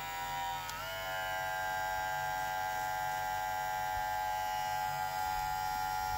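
Suprent HC 355 electric hair clipper switched on and running, a steady close-up mains-like buzz with rich harmonics that stays constant throughout, no voices.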